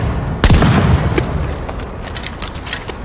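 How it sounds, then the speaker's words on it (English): A shotgun fires once in the game The Division, a loud close boom with a short decaying tail, followed by faint mechanical clicks and low background hum. "But being a shotgun, it only has those 2 loads."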